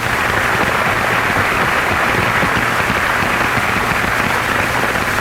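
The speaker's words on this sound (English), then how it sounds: "So I think they deserve some applause for their hard effort." Sustained applause from an audience at a 1982 Plymouth High School basketball championship celebration, a dense, steady wash of clapping at even loudness throughout with no voices over it.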